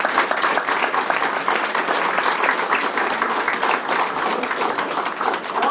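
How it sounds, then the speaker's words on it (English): A hotel audience applauds at a staff gathering, a dense, steady round of clapping from many hands that carries evenly from start to finish with no talk over it. "So I just want to give a round of applause to Barbara as well."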